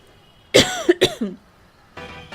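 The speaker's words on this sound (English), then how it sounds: "Oh, why am I still coughing?" A person coughs twice in quick succession, loud and close, with a softer throat sound trailing after, followed by a brief bit of faint noise.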